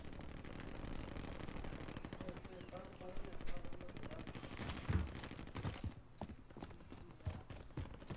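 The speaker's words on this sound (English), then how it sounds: "Assault rifle." Assault rifle gunfire in Call of Duty: Modern Warfare, a distant rattle early on and then a string of sharp, closer shots toward the end, with talk over it.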